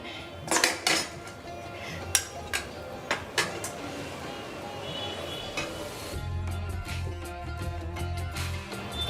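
Dishes and cutlery clink and clatter as fried egg, a ragi mudde ball and chilli khara are served into cups and plates, with several sharp close knocks early on, then a steadier background hum.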